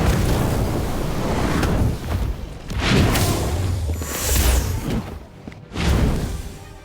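An Incendio fire spell goes off in Harry Potter: Magic Awakened, with loud roaring whooshes and booming fiery bursts that surge repeatedly, dense and close.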